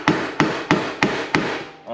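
A hammer used like a dead blow taps a seal into place during an RB26 engine reassembly, five sharp, evenly spaced strikes close by, each decaying briefly before the next.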